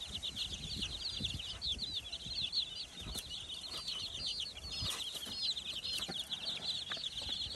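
Chickens and chicks cluck and peep continuously close by, a busy flock of high chirps layered over soft rustling and scattered low thumps.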